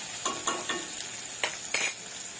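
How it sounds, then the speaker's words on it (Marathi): Onion frying in oil is stirred in a pan: a soft sizzle runs under a series of irregular scraping clinks of a utensil against the metal. "मिक्स करून घेऊया।"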